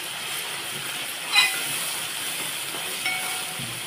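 Curry leaves fry in hot oil for a drumstick vegetable curry. The result is a soft, steady hiss, with one brief crackle and a fainter pop later.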